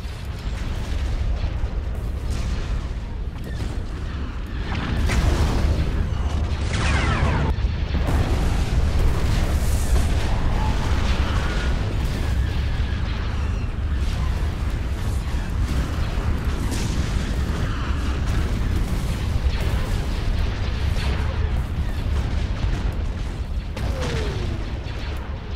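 Battle in Star Wars: Republic at War, with bombers and gunfire: continuous loud rumbling explosions and repeated sharp blasts over a dense, steady din.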